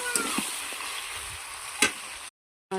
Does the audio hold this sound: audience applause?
no